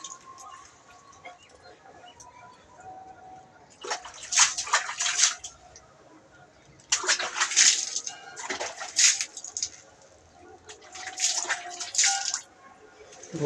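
Plant roots being washed under a running tap, with splashing and sloshing water in three bursts between quieter stretches, close by.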